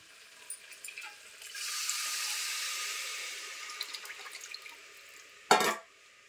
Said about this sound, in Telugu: చింతపండు పులుసు తీసి వేసుకుందామండి